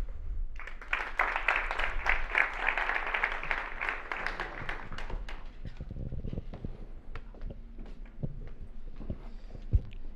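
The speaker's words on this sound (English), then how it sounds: "I think Cody deserves another round of applause" An audience at an energy tech conference applauds in a dense burst of clapping that swells and then thins out to scattered claps.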